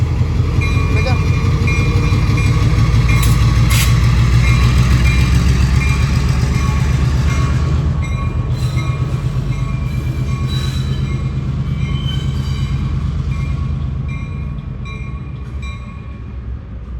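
Railroad equipment rolls through a yard on the Oyster Bay branch, with a heavy locomotive rumble, rhythmic wheel clatter and occasional metallic squeals, close and loud, easing off toward the end.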